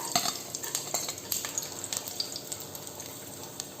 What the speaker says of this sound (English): I have added 2 tablespoons of oil. I am adding the finely chopped garlic into it.